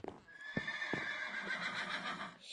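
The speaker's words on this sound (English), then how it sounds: "Okay, Horsey, you're dead now. You keep making that sound." A horse in Minecraft gives a drawn-out whinny, preceded by a few short hoof clops. The sound is close but fairly quiet, and no speech can be heard.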